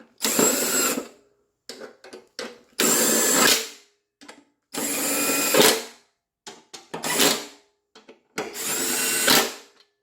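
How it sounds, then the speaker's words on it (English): An impact wrench tightens a deck spindle bolt on a Cub Cadet LT1045 lawn tractor, firing in several loud, close bursts of rattling hammering, each a second or so long with brief pauses between. "I'm going to use the impact and run her home."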